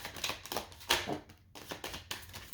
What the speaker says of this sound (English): I just like to go through a full shuffle.